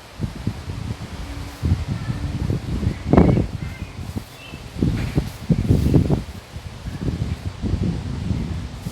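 Strong wind gusts outdoors with rumbling buffeting on the microphone and rustling leaves, continuous and loud throughout, with no talking.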